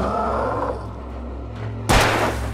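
A single loud gunshot from a handgun in Alan Wake Remastered rings out close and sharp near the end, over a steady low game rumble and ambient hum.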